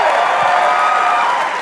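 A live audience claps and cheers loudly for a band, a dense, continuous burst of applause with a few whoops.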